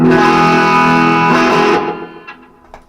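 A sustained, overdriven electric guitar chord through a Killswitch V2 pedal setup rings out thick and buzzy for nearly two seconds, then decays with a few faint picked notes trailing off.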